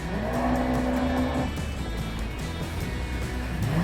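A Yamaha supercharged SVHO personal watercraft accelerates on a lake, its engine a steady, loud roar with a rising whine early on that drops away, continuing as a sustained rush of engine and water noise.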